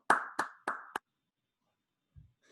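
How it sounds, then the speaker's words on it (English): Four quick, sharp hand claps from a participant in an online forestry community forum, close to the microphone, come in a loose rhythm over one second, followed by silence and a faint soft thump. "Yeah, round of applause."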